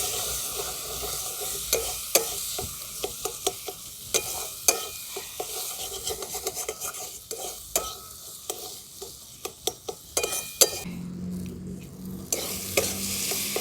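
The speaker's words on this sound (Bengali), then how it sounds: "এই সমস্ত মশলাগুলো আমি ভালো করে কষিয়ে নেব।" Coriander powder, turmeric and green chillies sautéed in hot oil, with a steady close sizzle broken by repeated sharp clicks and scrapes of a spoon stirring in the pan, and no talking.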